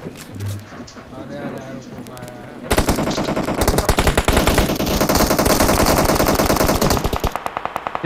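A DP-28 light machine gun sprays in a battle royale game, a long loud rapid burst of automatic fire that follows a stretch of player chatter and keeps rattling steadily to the end.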